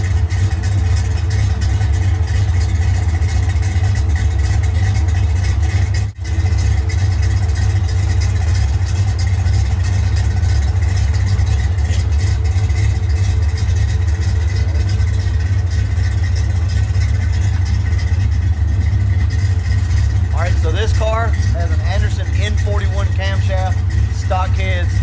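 Engines of cars with different camshaft and exhaust setups rumbling at a steady low idle for a long stretch, loud and continuous, with a brief dropout and a few higher chirps near the end.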